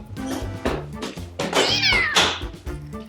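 A cat meows several times in quick succession, loud and close, with drawn-out, rising cries against a background of music.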